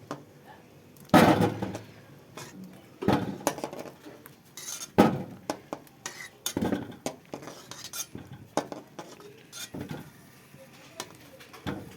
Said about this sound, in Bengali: তো বন্ধুরা আলুটা সেদ্ধ হয়ে গেছে, আমি তুলে নিচ্ছি।